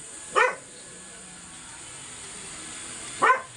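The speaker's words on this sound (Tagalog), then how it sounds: "Kasi may aso din sa loob eh. May aso." A dog barks twice, a few seconds apart, with quiet background between the sharp, mid-distance barks.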